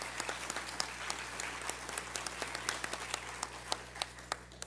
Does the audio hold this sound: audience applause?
yes